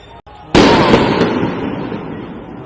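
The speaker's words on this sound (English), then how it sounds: "The firework just managed to get right into the middle of the square, but it went completely over the heads of the police they were aiming at." A firework bursts with a sharp, loud bang in a city square during street protests in Venezuela, followed by a long crackling, echoing decay, with a faint voice before it.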